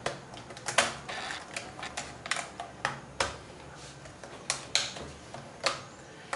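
An IBM ThinkPad ultrabook laptop keyboard being pried up by hand, giving a series of sharp plastic clicks and snaps at irregular intervals, close and fairly quiet.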